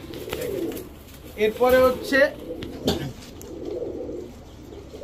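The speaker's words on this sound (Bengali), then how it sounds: "এগুলো হচ্ছে হাই ফ্লায়ার লাল চুলি কবুতর" Red high-flyer pigeons coo in a low, throaty, rolling burst at a pigeon seller's stall, close by. Someone talks before and after, with a short second coo following.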